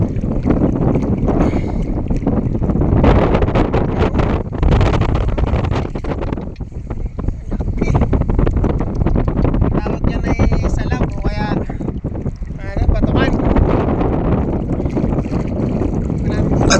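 Loud wind buffets the microphone continuously with rumbling gusts during night fishing with a net in cold weather in Lubang, while a voice talks intermittently underneath the roar.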